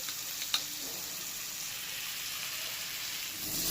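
Paneer with winter vegetables and a little gravy fries on a tawa in a constant close sizzle. A faint clink of stirring sounds near the start, and there is no speech.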